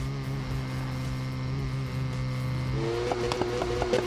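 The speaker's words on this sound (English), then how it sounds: "the RX-7 does sound pretty awesome. It does sound like a rotary" Mazda RX-7 rotary engine in the Need for Speed 2015 video game, holding a steady humming drone before rising into a rev with quick buzzy gear-change bursts near the end.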